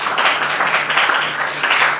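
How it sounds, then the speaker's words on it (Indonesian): Steady applause from a group, loud and close, sustained throughout with no one speaking. "Tepuk tangan untuk kelompok 3."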